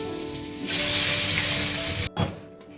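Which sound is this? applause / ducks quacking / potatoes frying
potatoes frying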